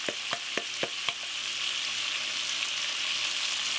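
Minced garlic and onion fry in a pan for fried cabbage and bacon, giving a steady close sizzle; a quick series of five sharp taps from scraping a container into the pan comes first, then the frying hiss carries on alone.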